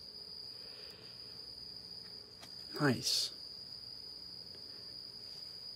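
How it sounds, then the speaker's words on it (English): Crickets chirping as a steady, high, continuous trill throughout, fairly faint in the background, with a brief word spoken partway through. "As long as these crickets would shut up,"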